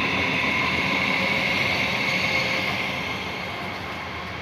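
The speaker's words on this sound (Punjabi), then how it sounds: "ਆਹ ਦੇਖੋ ਆਹ ਟ੍ਰੇਨ ਜਾ ਰਹੀ ਹੈ" A train rumbles steadily past at close range on a morning commute in Australia, a loud continuous roar of wheels and engine that slowly fades toward the end, with no talk over it.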